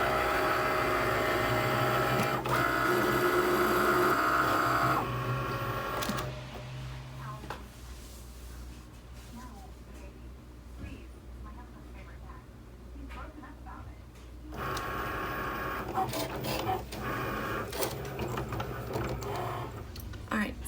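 A Cricut cutting machine slices vinyl with a whirring, buzzing motor and carriage movements that pause in a quieter middle stretch before starting again, with a person talking over parts of it.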